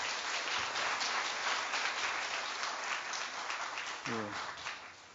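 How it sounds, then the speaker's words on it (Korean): Applause from the audience at a roundtable meeting in Jeju, steady dense clapping filling the whole stretch at moderate level, with a brief voice briefly cutting through near the end. "격려의 차원에서 다시 한 번 더 박수로 환영해 주십시오"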